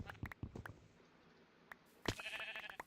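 A sheep bleating in the Minecraft modpack GregTech: New Horizons, a few short blocky bleats up close, followed by clicking footsteps and a brief chime-like game sound, with no talking.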